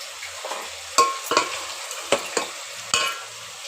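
Biryani masala being sautéed in a pan: a soft continuous sizzle broken by several sharp scrapes and clinks of a spoon stirring against the metal, close and fairly quiet.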